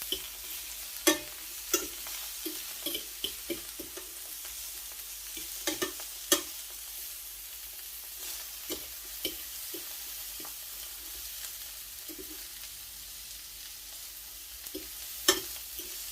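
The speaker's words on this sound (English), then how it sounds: "Let that fry for another 2 to 3 minutes on medium heat" Salmon frying in a pan on medium heat: a steady soft sizzle with scattered clicks and taps of stirring or utensil contact, fairly quiet and close, with no talking.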